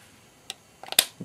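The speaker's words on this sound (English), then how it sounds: "slide it in until it clicks" A Canon EOS Rebel T3i battery pack slides into its compartment and clicks into place: a faint tick, a short scrape, then one sharp, close click with a small knock after it.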